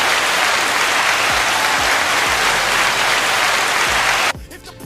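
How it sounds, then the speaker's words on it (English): Steady applause from an audience at a livestreamed 400K giveaway party, a dense wash of clapping held at an even level for over four seconds before cutting off abruptly near the end. "Round of applause for you guys."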